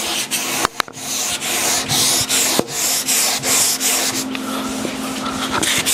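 Hand sanding of a wooden chair during refinishing, steady rubbing strokes of sandpaper over wood in long even passes, close and continuous with a few sharp knocks, no talking.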